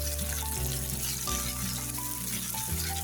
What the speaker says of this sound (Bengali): তারপরে আমি ভালো করে পেঁয়াজগুলি একটু ভেজে নিব